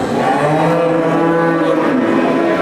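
A cow at a livestock market in Kastamonu gives a long, continuous low moo that fills the whole moment, loud and close, with no talking over it.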